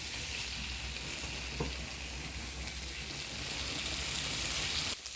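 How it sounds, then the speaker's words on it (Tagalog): Pork steak fries in its own rendered fat in a pan, giving a steady, close sizzle and crackle that runs throughout, with a brief clatter near the end and no talk. "Tapos binalik ko yung karne na wala nang sabaw. Pamantikain muna natin"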